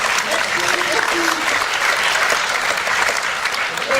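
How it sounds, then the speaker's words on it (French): A real theatre audience applauds at a live show in a Brussels-style playhouse, dense steady clapping filling the hall at close range for the whole stretch, with a few voices faintly mixed in. "On peut vous applaudir."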